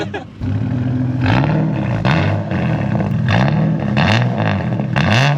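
A turbocharged Ford Falcon with a Barra engine revs repeatedly up close, each loud rising roar falling back to a rough idle in a regular rhythm.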